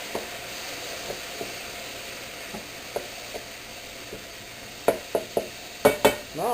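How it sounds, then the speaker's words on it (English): Rotel tomatoes are stirred into a pot of jambalaya with a spoon, giving soft, scattered scrapes over a quiet hiss, then a few louder, closer clatters toward the end. "my Rotel tomatoes. Get those mixed around in there."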